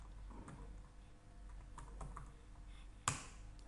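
Typing on a computer keyboard: quiet, scattered key taps at an irregular pace, ending with one sharper click, heard alone without any talk.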